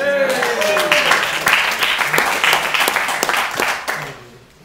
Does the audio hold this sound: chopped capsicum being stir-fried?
no